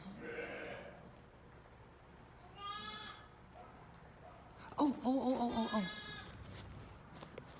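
Lambs bleat in a cold-weather barn at a dairy sheep homestead during lambing. There are a few wavering calls, one louder and closer than the rest, with a brief spoken exclamation.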